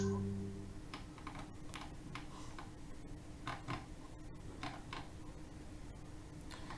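Quiet, close keyboard key presses on a computer keyboard, a scattered series of soft clicks and taps with no steady rhythm, one of which is the Enter key, heard alone in a still room.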